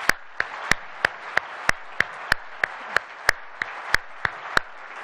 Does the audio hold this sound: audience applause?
yes